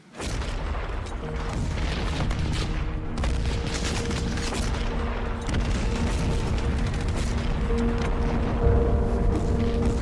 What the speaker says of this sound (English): And that's when the artillery kicked in.